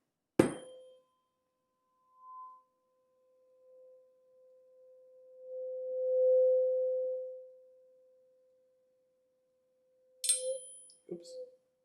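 In a physics resonance demonstration, a steady pure tone starts faint, swells to a loud peak and then fades away again, framed by a sharp strike at the start and clanks near the end.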